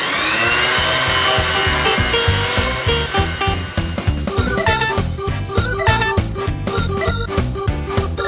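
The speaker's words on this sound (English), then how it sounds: "we're going to start sanding things" Power sander working wooden CNC workbench parts, a loud steady motor whine that breaks into rapid rhythmic rattling and buzzing as the sander presses and moves across the wood, no talk.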